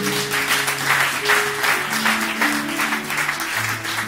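A church congregation applauding loudly and continuously, with dense clapping under sustained tonal music or voices in a resonant hall.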